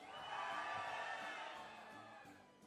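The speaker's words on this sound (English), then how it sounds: "I want you to see with your hands in the air, screaming as loud as you can." A festival crowd at Rock'ndaal, held at Bruichladdich Distillery, screams and cheers with hands in the air, a broad roar of many voices that swells early and slowly fades over a few seconds.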